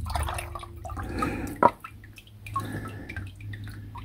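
A single clear drip of engine oil draining from a car lands with a bright plink, surrounded by faint trickling and quiet shop noise over a low hum.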